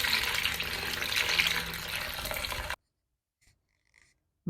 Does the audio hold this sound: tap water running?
yes